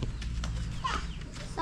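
Chickens clucking in a yard, a few short, close clucks and soft calls in quick succession over a low background.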